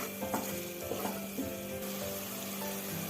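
Spice powders fry in hot oil in a pan while being stirred, giving a steady close sizzle broken by soft scraping strokes throughout.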